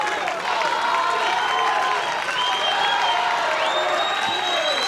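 Crowd of fans at a 1991 girls' high school softball championship game standing and cheering, a continuous roar of voices with scattered whoops and clapping, steady and fairly loud throughout.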